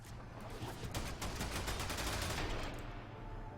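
Rapid gunfire in the video game Warframe, a dense continuous burst of shots lasting several seconds, loud and close, with no voices.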